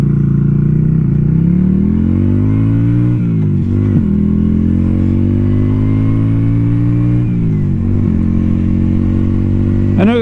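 A Yamaha V Star 250 motorcycle engine runs loud and close while riding, its pitch climbing and dropping through several rev changes and gear shifts, with no talk.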